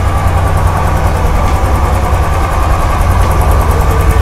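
Royal Enfield Bullet 350 ES (Electra) BS6 motorcycle engine idling steadily, a loud, close, continuous low thumping rumble with even rhythm and no other sounds.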